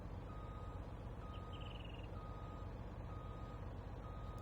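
A plow truck, a heavy rescue Mack over 20–30 years old, gives regular reversing beeps while backing in on snowy roads, under a loud steady engine rumble with no talk.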